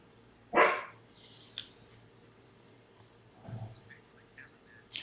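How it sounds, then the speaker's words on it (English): A dog named Karma barks once, sharp and fairly close, followed by a softer low woof a few seconds later against an indoor background hum. "That is my dog Karma in the background."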